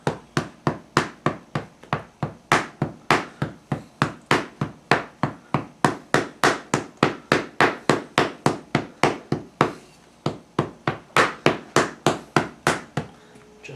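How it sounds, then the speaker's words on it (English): A hammer packs clay into a mold for medieval bronze casting: a steady, rapid run of dozens of sharp, close blows with a brief pause partway through. "So I'm going to use a hammer because I like hammers."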